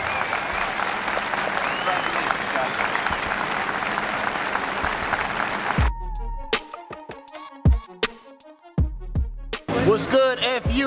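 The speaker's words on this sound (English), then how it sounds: "Let's congratulate our cadets with a round of applause" Loud, dense audience applause and crowd noise at a college basketball game for the cadets, then dropping away to scattered sharp bounces and squeaks from the court, with music or announcer sound returning at the end.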